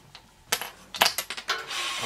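A window curtain is rolled down indoors, giving a run of close, sharp clicks and rattles in quick bursts, ending in a brief soft rush.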